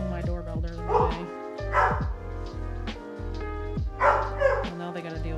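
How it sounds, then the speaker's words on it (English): Dogs bark and yip loudly and close, in repeated bursts set off by a doorbell at home, with a voice talking over them. "Well, now they got to deal with the dogs."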